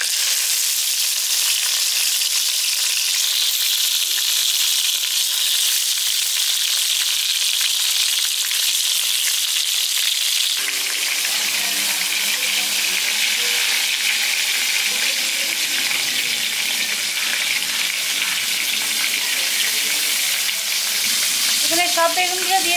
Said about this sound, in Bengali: এবার বেগুনগুলো আমি ভাজতে দিয়ে দিচ্ছি।